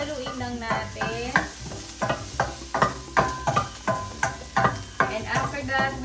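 Sopas stirred in a pot, a soft rhythmic scraping and swishing that repeats about a dozen times over a steady sizzle, close by and fairly loud, with no talk over it.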